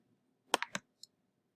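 A computer mouse clicks three times in quick succession, close and crisp, with one lighter click following a moment later in a quiet room.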